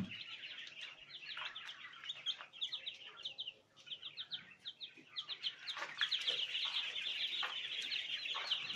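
Small flock of chickens clucking and chirping in a backyard quail pen, continuous overlapping calls at moderate distance, busier toward the end, with no talking.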